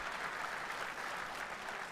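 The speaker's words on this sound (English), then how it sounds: "Have a round of applause." Applause from a crowd at a Warhammer Fest 2023 gathering: a steady, dense wash of clapping held at an even level throughout.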